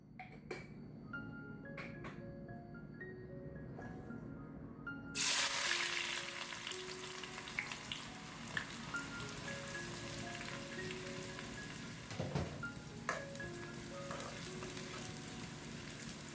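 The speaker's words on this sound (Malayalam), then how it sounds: "ആ സമയം കൂടി നമുക്ക് ദമ്മിടാനായിട്ടുള്ള സവാള ഫ്രൈ ചെയ്തെടുക്കാനായിട്ട് സവാള അരിഞ്ഞെടുക്കാം കേട്ടോ" Sliced onions hit a hot pan for frying, to be used in a fish biryani. A sudden loud hiss starts partway through and settles into a steady, close sizzle after a quieter opening with faint tonal background sound.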